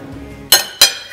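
A spoon strikes a glass or dish twice, two bright ringing clinks about a quarter second apart, close and clear against a quiet kitchen background.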